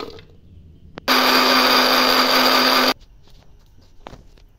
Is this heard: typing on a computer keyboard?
no